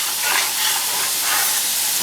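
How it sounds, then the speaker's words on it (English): Beef stroganoff stirred and deglazed in a hot pan, a steady close sizzle and hiss with faint scraping swells, no talking. "I'm going to stir this well, see if I can deglaze most of the bottom easily at this point"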